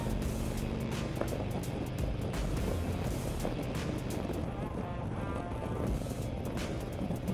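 A 2024 Harley-Davidson Road Glide Limited motorcycle pulls under power, its engine a steady, loud low rumble mixed with heavy wind roar throughout.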